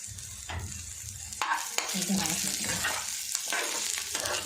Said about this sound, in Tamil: வெங்காயம் முந்திரி இஞ்சி பூண்டு கட்டை கிராம்பு இது எல்லாமே பார்த்தீங்கன்னா நல்லாவே வதங்கிடுச்சு